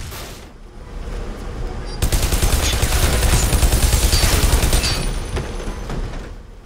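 Sustained automatic assault rifle fire in the video game Bodycount, loud and close, with a dense rapid burst swelling after a brief lead-in and holding steady before tapering off.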